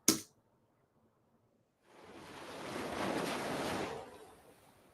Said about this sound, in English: slowly introduce the wave sound before even the waves appear